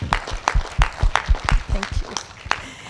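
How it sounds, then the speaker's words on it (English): Conference audience in Kenya clapping for visiting guests, a steady run of hand claps of moderate loudness, close and alone with no talk over it. "can we give our visitors a hand of applause?"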